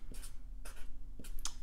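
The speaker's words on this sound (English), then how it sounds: "So let's just write that down" A pen scratches across paper in short strokes while a fluid transport physics problem is written out by hand. The strokes are quiet and close, coming in a few brief bursts with small pauses between them, and there is no talking.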